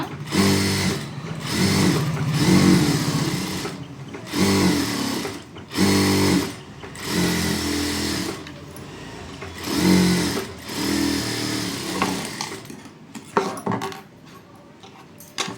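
Bursts of a sewing machine stitching around the lining of a blouse come in about six runs of a second or two each, separated by short pauses. The final seconds hold only light handling sounds, and no one speaks.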